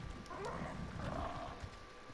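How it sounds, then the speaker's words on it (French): Horses (equus) in the survival video game ARK, a short burst of snorting and whinny-like calls over steady ambient game noise, moderately close with no talk. "Je crois que c'est les écus, enfin les chevaux quoi, les écus."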